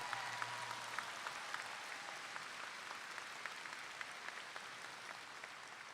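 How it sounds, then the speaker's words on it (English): Applause for teachers at a 2021 North Garland High School graduation ceremony: a large crowd claps steadily and continuously from a distance, filling the whole stretch with dense rolling clapping. "I want us first to give a round of applause to our teachers"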